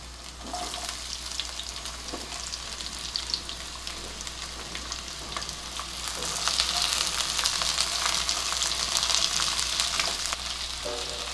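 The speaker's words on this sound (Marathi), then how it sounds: "आपला लसूण थोडा लालसर झालाय आता कांदा घालते" Chopped onion sizzles and fries steadily in a pan with garlic that has already browned a little, a continuous close crackle that swells louder partway through as the onion is stirred, with no talking.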